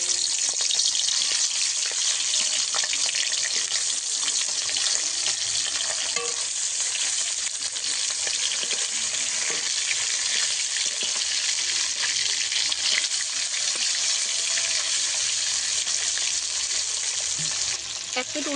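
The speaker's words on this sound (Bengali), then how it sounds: "কড়া গরম হয়ে গেছে, একে একে মাছ দিয়ে দেব।" Turmeric-coated hilsa fish frying in a hot pan of mustard oil, giving a loud, steady, unbroken sizzle and crackle that holds at an even level throughout.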